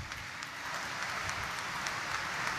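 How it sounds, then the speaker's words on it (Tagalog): Applause from a congregation at a Saturday Mass in Quiapo Church, a soft, steady wash of many hands clapping heard at a distance in a large reverberant space, with no talking over it. "Ibigay natin ang pinakamalakas na palakpak"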